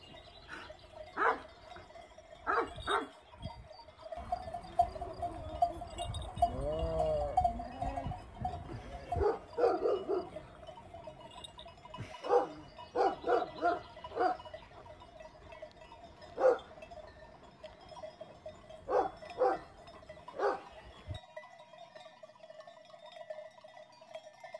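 Kangal sheepdogs bark near a sheep flock on open steppe, giving sharp, scattered barks at a middle distance, some in quick pairs, with a steady animal drone and bleating-like calls in between.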